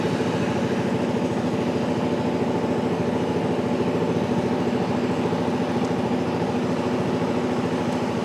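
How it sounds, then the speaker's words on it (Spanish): A CFMOTO 250CL-C motorcycle engine idles steadily and close by, a continuous low rumble with a rhythmic throb and no voices. "el motor, obviamente, aunque lo comparte con la 250 NK y con la 250 SR, el sonido es diferente."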